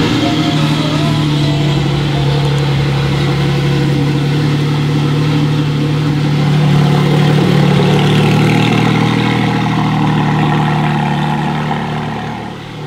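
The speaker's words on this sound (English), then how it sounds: "Love a good cold start in the morning." A Porsche engine idles steadily after a cold start, a loud, close, even rumble with a slight swell in revs midway before settling, no talking.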